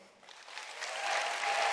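A conference audience breaks into applause, quickly building from faint scattered claps into a fuller, sustained round.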